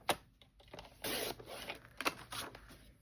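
Cardstock being cut for an Easter fold card, a few short crisp snips and rustles close by and fairly quiet, spaced irregularly over a few seconds.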